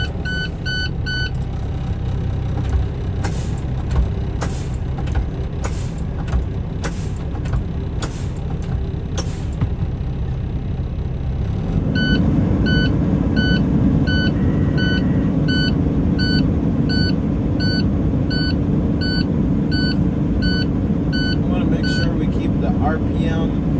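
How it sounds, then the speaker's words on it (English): A combination truck undergoing a pre-trip inspection starts up, and its engine settles into a loud, steady idle. Rhythmic warning beeps repeat throughout, and someone talks over the sound. "Now I'll be starting the truck."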